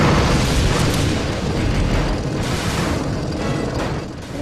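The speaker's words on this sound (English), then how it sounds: "Again with collapsing ceilings and mortar." Mortar explosions and collapsing ceilings in a tank video game: a dense, continuous roar of booming blasts and rumbling debris, loud and unbroken throughout.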